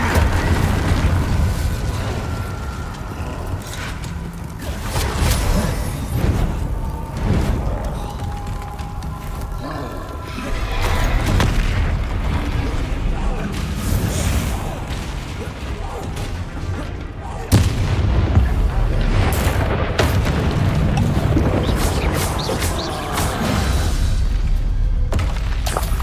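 Spell blasts from the Incendio fire spell and other combat magic in the video game Hogwarts Legacy, a dense, loud run of booming impacts and whooshing bursts that continues for the whole stretch, with a sharp hit near the middle.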